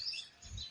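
A sparrow gives a quick pair of faint, high chirps, brief and slightly distant, with no voices present.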